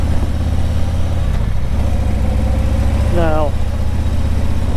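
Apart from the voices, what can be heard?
small moped engine idling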